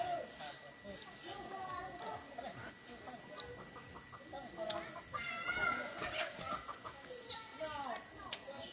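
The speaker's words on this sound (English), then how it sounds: "The dogs are tormenting the chickens." Chickens cluck and squawk in agitated bursts while dogs chase them around a yard, a scattered, moderately distant commotion with people talking nearby.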